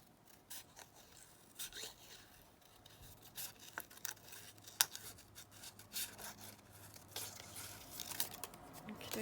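Scissors cut out paper flowers for a holiday folio craft, giving faint, intermittent snips and light paper rustling in a quiet room, with no talking.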